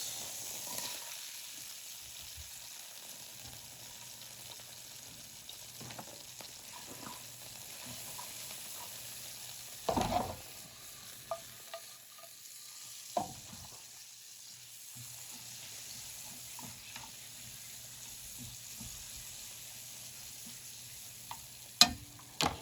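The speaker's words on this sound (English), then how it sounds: "Once those shallots get nice and caramelized in the pan, you really don't need a lot of time with them." Shallots sizzle steadily in a hot pan after steaks were seared for steak Diane, with occasional utensil scrapes and stirring clicks over a constant frying hiss.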